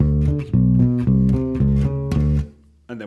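A slapped electric bass plays a chorus riff of thick, sustained low notes with snappy attacks, clear and close with no voices, closing on a short final pop.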